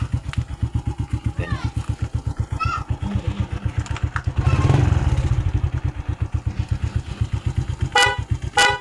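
A vehicle horn honks in a few short blasts over the steady, rhythmic thumping of a nearby idling engine.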